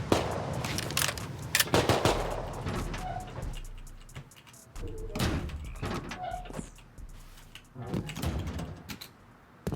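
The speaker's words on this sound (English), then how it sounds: "Oh, we got shots fired." Gunfire in a survival video game, played on a solo vanilla server, booms as several sharp, heavy shots with echoing tails amid ambient game noise, fairly loud and spread irregularly across the clip.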